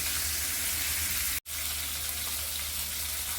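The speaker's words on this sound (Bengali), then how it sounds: "একইভাবে অন্য সাইডটা ফ্রাই করে ফিরে আসছি" Coral fish belly pieces fry in a pan with a loud, dense, continuous sizzle, broken once by a split-second dropout before the hiss resumes.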